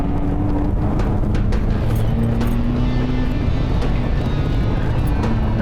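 A car on the drifting section of a track drones loudly and steadily, its engine note sliding up and down through the turn under constant rumbling road and wind noise.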